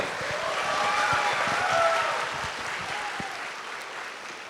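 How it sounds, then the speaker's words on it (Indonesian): A studio audience at a televised talk show claps for a guest, a dense, sustained round of applause that swells slightly and then tapers, with no voices over it. "Kita berikan aplaus untuk Lukman Amir."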